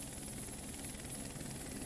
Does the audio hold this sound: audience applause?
no